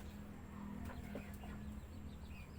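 Mahogany Rhode Island Red rooster crowing at moderate distance, a single drawn-out call over a steady low farmyard hum with faint clucks and scattered bird sounds.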